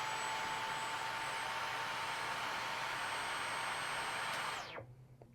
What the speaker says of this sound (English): Here comes Eco mode on the Dyson.